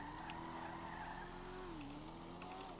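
A sports car in GTA 5 drives hard, its engine droning steadily with a rising and falling pitch while tires squeal and skid throughout. The sound is continuous, close and loud, with no talking.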